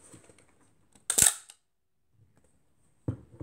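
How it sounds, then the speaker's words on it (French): A Rolleiflex SL66 medium-format camera with a Planar 80mm f2.8 lens: one sharp mechanical click with a short whirring tail, then a quieter clunk, each close and alone in near silence. "On utilise la manette d'armement. On la ramène à sa position d'origine et on a le déclencheur qui est juste là."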